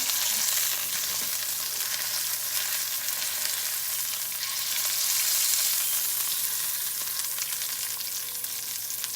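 Bacon wrapped around fresh Columbia River salmon fries in a pan with a steady, dense sizzle. The sound is close and continuous and swells slightly midway, with no voices.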